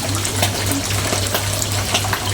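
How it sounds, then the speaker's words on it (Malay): Tamarind water poured into a cooking pot in a village kitchen, a steady gushing, splashing stream that runs for the whole clip with a low constant hum beneath it. "kita masukkan air asam"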